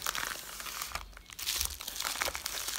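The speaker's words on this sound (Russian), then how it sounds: "я уже открыла пакет" A thin plastic package holding an Aliexpress stylus crinkles and rustles close up, dense continuous crackling with a short lull midway, no talking.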